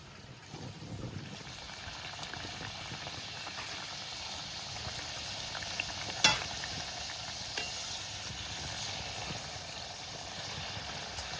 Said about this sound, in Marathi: करंज्या करून झाले तर तळून घेते